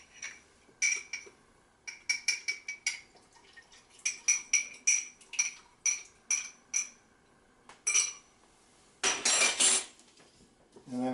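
A utensil stirs pork chop juices thickened with a slurry mix in a pan, making close, sharp metallic clinks in irregular bursts, followed near the end by a short rush of hissing noise.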